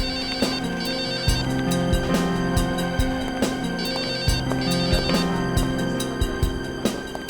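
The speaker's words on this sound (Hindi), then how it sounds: "फोन बज रहा है आपका" A phone ringtone plays loudly and continuously, a repeating electronic melody with a steady rhythmic pattern.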